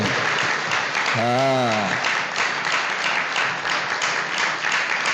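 An audience at a religious gathering claps steadily for a young saint, soft, even applause throughout, with one brief spoken word near the start.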